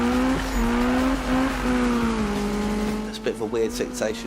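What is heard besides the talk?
car braking hard, tire squeal, Need for Speed video game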